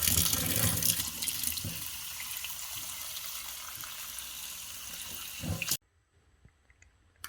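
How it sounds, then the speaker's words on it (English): Tap water pours in a steady, loud, broadband rush to fill a rock tumbler barrel, then cuts off abruptly, leaving a few faint drips and small clicks. "Now we'll fill it up with water and turn it on."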